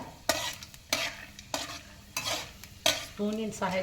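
A spoon stirs Maggi noodles with peanuts in a frying pan. Several distinct scraping strokes land at a steady rhythm over a soft, continuous sizzle.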